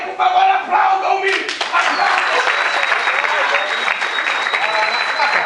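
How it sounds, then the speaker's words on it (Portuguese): A theatre crowd at a short-scene festival during Virada Cultural bursts into loud applause with some cheering. It comes after a brief moment of voice and stage sound, then carries on strongly to the end. "Por favor, aplaudam-me!"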